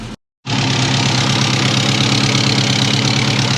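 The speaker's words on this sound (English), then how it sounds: "Exhaust leak." A Subaru car engine with a leaking exhaust gasket idles steadily and loudly after a brief silent gap, with a rough, rapid puffing texture throughout.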